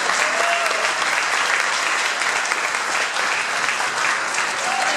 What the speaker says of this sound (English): Let's give Javier a big round of applause